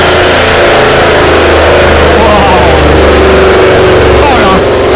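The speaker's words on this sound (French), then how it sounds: "C'est ça toute la puissance d'un moteur Mercedes." A Mercedes engine revs hard on a dyno test bench, a loud, sustained roar that rises in pitch as it accelerates, close and dominating, with a brief break near the end.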